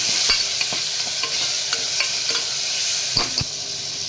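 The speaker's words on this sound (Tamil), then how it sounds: "இஞ்சி பூண்டு பேஸ்ட் போட்டு கொஞ்சம் ஒரு வதக்கலாம்" Ginger garlic paste sautéing in a pan, with a continuous bright sizzle and a regular series of scraping stirs from a spoon against the pan, close and loud, with no voices.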